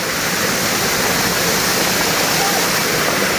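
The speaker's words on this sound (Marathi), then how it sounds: "तिथनं पाणी सुरू होतं खाली नदीला जायला म्हणजे उगम स्थान तिथे आलो आहे" Stream water pours continuously at a river's source in a forest, a dense, loud, even rush like a small waterfall that fills the whole stretch without pause.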